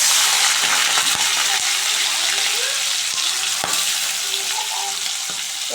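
Prawns frying in hot oil in a wok, a loud dense crackling sizzle that runs continuously, close by, with a few sharp pops and clinks.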